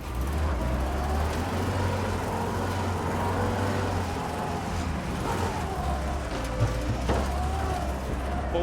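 A Willys CJ-2A military jeep grinds along off-road in four-wheel drive, its engine a steady low rumble with mechanical rattles and creaks, continuous and close the whole time.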